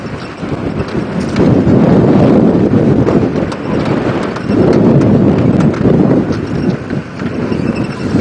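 Wind blows steadily across an open outdoor safari drive in the African bush, a loud rushing buffeting on the microphone that swells and eases in gusts, with no one speaking.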